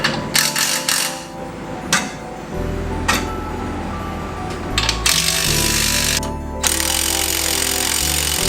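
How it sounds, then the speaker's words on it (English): Pneumatic impact gun spinning off the U-bolt nuts under the rear axle of a Chevy Colorado, loud ratcheting bursts in several separate pulls over a steady shop background, with metallic clinks between them. "you're gonna take your impact gun right here"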